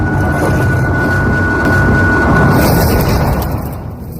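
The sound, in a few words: Minecraft wither attack screech and explosion from a video game music disc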